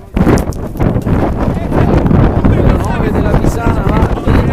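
Strong wind buffets the microphone at a sports ground in loud, rough gusts that roar throughout, with voices talking under the noise.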